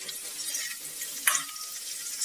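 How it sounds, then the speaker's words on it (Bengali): Vegetables deep-frying in hot oil for a Bengali shukto, a steady soft sizzle with bubbling crackle throughout and one brief sharper clink partway through, no voices. "সমস্ত সবজিগুলোকে খুব ভালো করে আমি ছাকা তেলে কিন্তু ভেজে নিচ্ছি"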